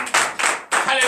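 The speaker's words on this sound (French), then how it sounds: "Donnez encore l'acclamation." Congregation at a Beninese morning prayer service clapping in acclamation, three loud bursts of dense hand claps with brief dips between, mixed with voices.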